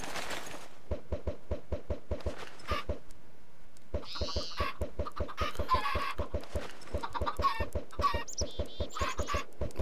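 Chickens in a Minecraft-style game cluck in steady repeated pulses, joined by sharper squawks and chirps partway through, all close and clear with no talking.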